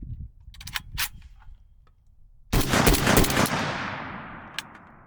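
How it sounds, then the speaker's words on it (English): A Riley Defense AK-103 rifle bolt slams home with one loud, sharp metallic clack in the middle, preceded by a few lighter clicks and handling noises and followed by a ringing decay. "We'll send the bolt home."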